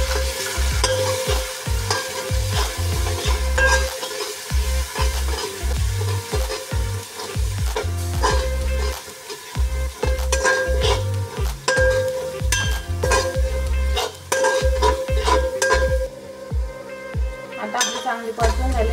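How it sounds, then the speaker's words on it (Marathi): Ginger-garlic and chilli paste sautéed in a pan for chicken pulao, with loud close sizzling under repeated scraping and clanking of a spoon stirring against the metal pan in an irregular rhythm. "आता आपण त्याला चांगली परतून घेऊ।"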